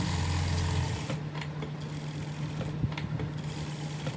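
A sewing machine stitches piping onto a blouse, its steady hum running through the clip, loud and close at first, then continuing a little quieter.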